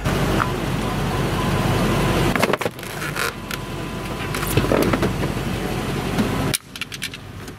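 A Land Rover engine idles and revs close by, then a dull metallic crunch and rattle as it is driven into an Audi, followed by quieter clanking.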